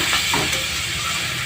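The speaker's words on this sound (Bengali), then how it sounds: "একটু ভাজা ভাজা হতে দেব।" Spiced kharkol stalks, cooked with sugar, turmeric and salt, fry in a pan with a constant close sizzle while being stirred in short scrapes.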